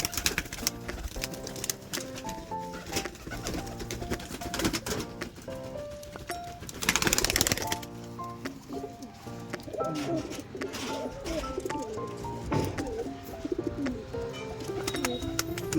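Pigeons coo steadily as they leave an opened cage one by one, a busy layered murmur of calls filling the scene at close range with no talk over it.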